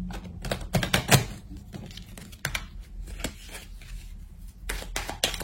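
Tarot-style cards shuffled and laid out by hand during a reading, giving quick papery riffles and soft flicks in bursts, with quieter pauses between and close, dry handling noise.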